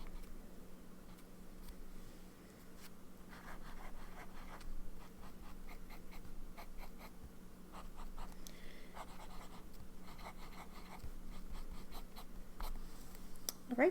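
Medium-nib fountain pen writing in Colorverse Koloro pink ink, a close, soft scratchy scrawl of short strokes and ticks continuing steadily over a faint low hum.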